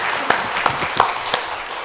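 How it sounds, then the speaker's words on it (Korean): A church congregation claps together in a brief round of applause, with scattered distinct claps over a steady wash of hand clapping in a reverberant room. "하나님께 영광의 박수 돌려드리겠습니다"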